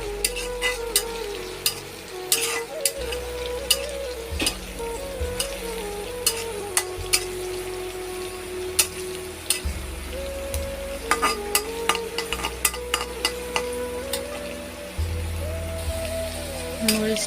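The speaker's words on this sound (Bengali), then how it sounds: "মরিচগুলো কেটে রেখেছিলাম কাঁচা মরিচ, সেটা এখন দিয়ে দিলাম। এটাকে এখন নাড়াচাড়া করতে থাকবো।" Chopped green chilies sizzle in hot oil in a pan while being stirred, a continuous crackling fry broken by frequent sharp scrapes and clicks of the spatula against the pan, close and fairly loud with no talking.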